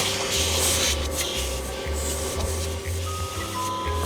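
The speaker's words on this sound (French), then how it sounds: "J'ai cru entendre un bruit d'aspirateur" A vacuum cleaner runs steadily in a cartoon scene, its loud continuous whir holding at one level with a faint pulsing hum underneath.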